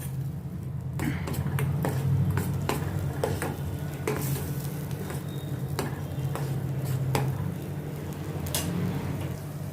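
Spice powders sautéing in a pan give a continuous close sizzle, while a utensil keeps stirring and scraping at an uneven pace, clicking against the metal over a low steady hum.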